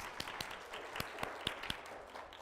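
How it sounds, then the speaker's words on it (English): A church congregation applauds during a Sunday celebration service, a faint, thin patter of scattered hand claps with a few sharper individual claps standing out, heard briefly. "Give them a nice round of applause."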